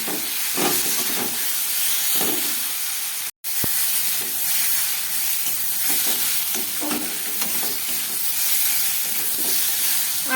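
Potatoes sizzling and frying in a pan with chili paste and chili powder, a steady close hiss with stirring scrapes throughout and a brief dropout near the start.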